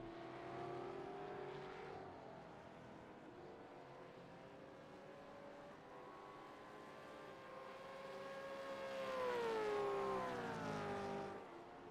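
Gen 3 Supercar racing through the back straight chicane at Charlotte Roval in iRacing, its engine note droning steadily, dipping on braking, then rising sharply as it revs back up near the end; no talking.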